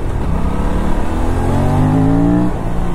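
An Aprilia RS 457 motorcycle engine revs up under a ride-by-wire throttle, a close, steady growl climbing smoothly in pitch and loudness before easing off.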